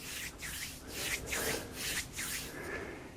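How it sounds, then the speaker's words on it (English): Bare hands rub an acupressure point on the foot during a seated tai chi self-massage, giving soft, close, rhythmic swishing strokes, about six in steady succession, with no talk. "Rubs a very important acupressure point on the foot."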